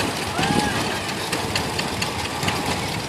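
A 1949 John Deere A tractor engine idles steadily and close by at an outdoor power parade, its continuous low rumble running under the general noise of the crowd and the event.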